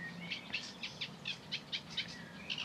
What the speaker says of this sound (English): Chiff chaff, reed warblers, somebody tell us.